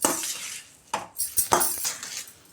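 A metal spoon scrapes and clinks against a pan while mixing sweet dry semiya (vermicelli). Several irregular scraping strokes and taps come up close, with no talking.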